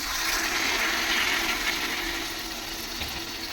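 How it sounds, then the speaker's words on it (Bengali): Water poured into a cooking pot of jackfruit and goat fat being braised, a steady close rushing splash that holds for a few seconds and eases slightly toward the end. "আমি জল দিয়ে দিচ্ছি।"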